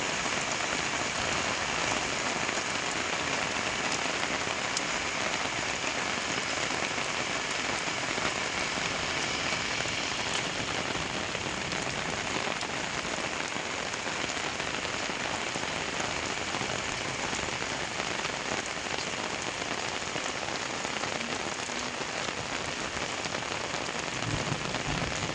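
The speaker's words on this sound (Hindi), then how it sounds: "आपको दिखाते हैं बारिश के कुछ दृश्य।" Heavy downpour in Jammu, a dense, steady roar of rain beating on surfaces that continues unbroken and fairly loud throughout, with no voices.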